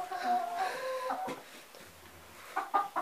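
Hens in a French poultry yard clucking and calling in a few short bursts, moderately close, with a quieter stretch in the middle before more clucks at the end; no talking.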